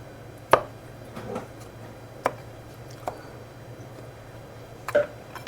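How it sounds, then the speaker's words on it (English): A knife chops olives on a cutting board for a pan pizza, a handful of sharp, separate taps spaced irregularly over a faint steady hum, close and fairly quiet. "So I want to kind of chop the olives up just a little bit."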